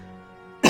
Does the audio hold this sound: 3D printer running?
no